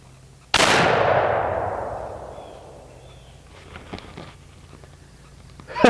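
One loud, sharp blast from a Knight .50 caliber muzzleloading rifle fired outdoors at a target, followed by a long, slowly fading boom and echo, with a few faint knocks and clicks afterward.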